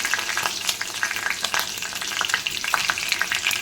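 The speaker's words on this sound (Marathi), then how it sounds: "सर्वात आधी तेल टाकून घेऊया. आपण त्याच्यामध्ये मोहरी टाकूया. नंतर आपण टाकूया मिरची" Mustard seeds and green chilies sizzling in hot oil, a loud close crackle with rapid sharp pops spattering throughout, no speech.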